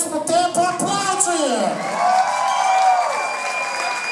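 Applause and cheering from a nightclub crowd at a drag comedy show at Danger Dance Club, a dense, sustained wash of clapping with whoops and shouting voices over it.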